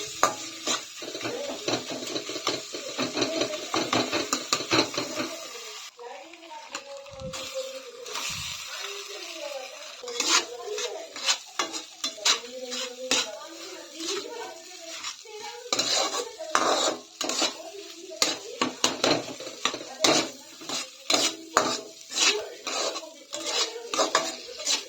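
Utensils clatter and scrape in a pan as tomato and onion are stirred and fried for a home-cooked egg bhurji, with steady clinking and metal knocks throughout and faint sizzling underneath.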